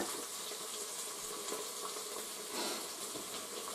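Duck, rice and onion frying in a multicooker give off a steady, even sizzling hiss that stays close and constant throughout, with no voices.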